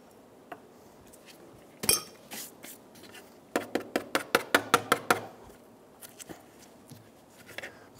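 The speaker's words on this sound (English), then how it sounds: "I'm going to clean up my area so there's no glass sitting on it." Broken pieces of a car side-mirror glass from a 2007-2011 Toyota Camry clink and tap during cleanup, scattered sharp clicks followed by a rapid run of about ten bright rhythmic clinks, then lighter taps, close and fairly quiet.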